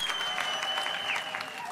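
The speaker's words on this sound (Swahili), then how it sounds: "Pia muwapigie makofi" A church congregation in Nyandarua, Kenya, claps in a short, steady burst of applause, with a faint voice faintly audible behind it.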